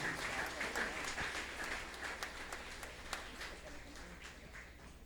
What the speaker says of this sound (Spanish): un fuerte aplauso, queridos hermanos